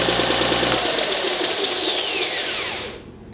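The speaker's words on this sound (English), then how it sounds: "Like any edge sander, just run it for a few seconds and then check your tracking." An Oliver 6301 benchtop edge sander runs steadily for about three seconds, a loud broadband whir with a high whine, then spins down in a falling tone and cuts off near the end.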